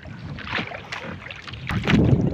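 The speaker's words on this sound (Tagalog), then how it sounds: "For today, sobrang lakas ng hangin." Strong wind buffets a small fishing boat out at sea, a continuous rough roar with gusty swells and buffeting bursts, growing louder toward the end.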